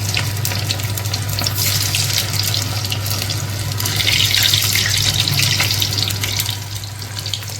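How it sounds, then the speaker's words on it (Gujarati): Manchurian balls deep-fry in hot oil with a continuous, close, crackling sizzle that holds steady throughout, with no voices. "જુઓ મંચુરિયન ને આપણે તળી રહ્યા છીએ"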